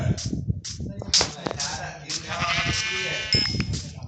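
Sheep in the video game Minecraft bleat several times, short nasal cries standing out over clicks and game sounds, with a person talking at moments.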